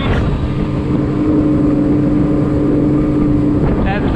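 A Tohatsu 30hp outboard runs steadily at 6,000 RPM, pushing a Gheenoe LT25 boat at about 32 mph. The engine gives a loud, continuous drone with a steady high whine, mixed with wind and water rush.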